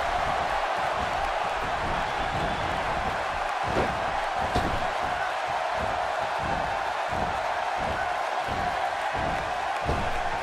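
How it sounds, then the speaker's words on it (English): A large arena crowd cheers steadily through a WWE 2K17 Independence Day battle royal, a continuous dense roar with scattered thumps from the ring. "by the sound of this crowd, I think they're getting what they wanted"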